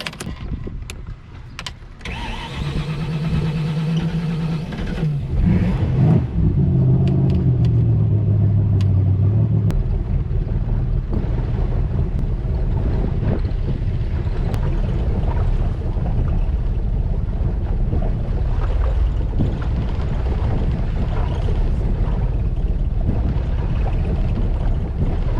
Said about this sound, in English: This is the first test run, putting the prop back in the boat.